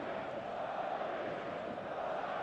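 Steady, dense roar of a stadium crowd on match day in the eFootball video game, a continuous loud wash of massed voices before kick-off with no distinct speech.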